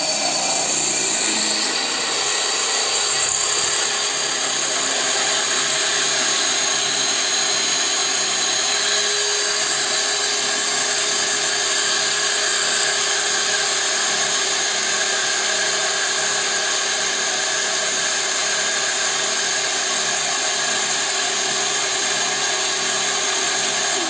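A Dewalt cordless drill with a diamond bit bores into porcelain tile, a steady loud whine with a sustained high-pitched grind running unbroken from start to finish, with no voices.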